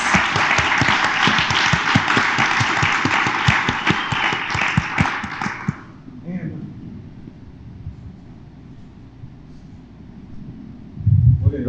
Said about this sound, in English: let's give our student panel a round of applause